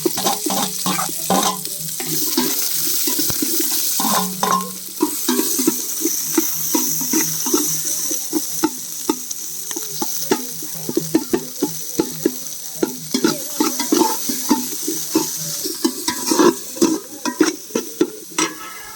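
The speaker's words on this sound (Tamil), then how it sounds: "கருவேப்பிலை ரொம்ப தெரிக்குது" Curry leaves and mustard seeds pop and splutter in hot oil as noodles are cooked, a close, fairly loud sizzle broken by many sharp, irregular crackles and stirring scrapes that grow denser toward the end.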